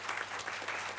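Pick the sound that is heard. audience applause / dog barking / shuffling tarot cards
audience applause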